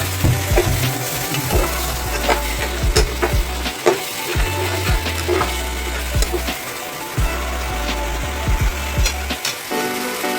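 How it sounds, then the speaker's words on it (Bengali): Tomato paste sizzles and fries in a pan for a spicy pomfret curry while a spatula stirs and scrapes, with steady loud crackling broken by repeated sharp knocks against the pan. "এবার দিয়ে দেবো টমেটোর পেস্ট, যা রয়েছে সব দিয়ে দিচ্ছি। ভালো করে নাড়বো চাড়বো।"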